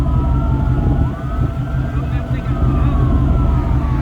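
Police car siren wailing in rising and falling sweeps over a loud, steady low rumble of passing traffic on a night street, fairly close, with someone talking over it.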